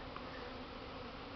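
Honeybees fly out of their hives on a warm spring day, making a steady, continuous buzzing hum that is faint and even from start to finish.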